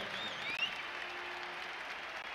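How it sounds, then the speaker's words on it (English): Basketball fans stand and applaud in an arena during an Arizona Wildcats college game, a steady, even wash of clapping that holds from start to finish without talk over it. "the fans are standing to applaud Mark Lyons"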